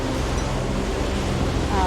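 Heavy ocean swell of about three metres rolls and surges at Queensland's Wide Bay Bar around a sailing boat, a steady broad roar of water and wind filling the whole stretch without pause.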